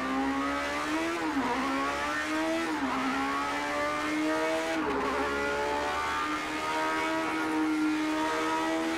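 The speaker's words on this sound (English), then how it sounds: "It's the engine slowly coming apart" Vintage F1 Lotus 78 engine in Project CARS 2, a loud close high-revving whine with rising and falling pitch through gear changes and speed shifts, continuous for several seconds without talk.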